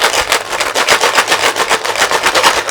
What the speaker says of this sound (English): I'll take a handful of beans and I'll pour that in the bottle